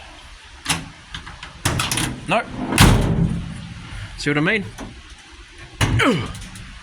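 Repeated rattling clunks and metallic thuds of a tight, stuck 1959 Chevy Apache truck door being yanked and jostled, close by, with someone talking briefly between the bangs.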